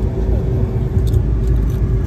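A car engine idles steadily at low pitch right after starting, a constant close rumble with a faint jingle of keys partway through.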